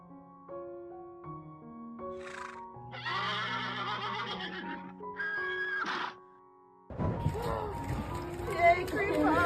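Horses neighing and whinnying in shrill bursts as they are released into the wild, with several calls close together over a steady tonal background.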